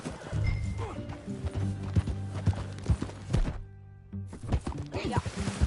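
Rhythmic horse hoofbeats clip-clop steadily under a bed of music in the video game Red Dead Redemption 2, with a few louder thuds and a brief quieter gap near the end.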